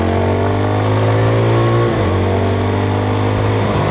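A Yezdi Scrambler motorcycle engine pulls hard under acceleration, loud and close, its steady drone shifting pitch as the rider changes gear midway, with no voices over it.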